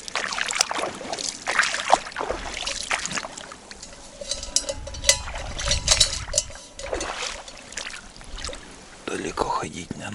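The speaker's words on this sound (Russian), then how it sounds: "Воду набрать." Water is scooped by hand from a swamp beside a hut during a spring hunting trip, giving soft close splashes and trickles. A voice speaks quietly over the sounds.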